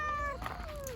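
A single short cat meow, close and fairly soft, its pitch sliding downward.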